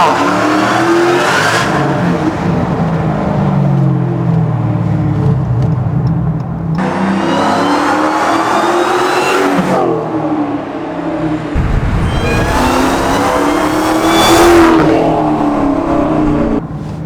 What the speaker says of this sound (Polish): Dobra, znowu tryb manualny. Dwuja i jazda!